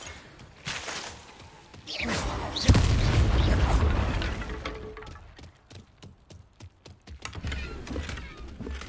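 Confringo blasting spell in Hogwarts Legacy: a loud booming explosion bursts out mid-clip and rumbles away, set among whooshes, cracks and a rapid train of clicky impacts afterward.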